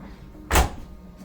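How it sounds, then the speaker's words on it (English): The reversed door of an LG DLHC5502V dryer is swung open, giving one short soft thump or clunk over a faint room hum. "Now we can open the doors towards the wall."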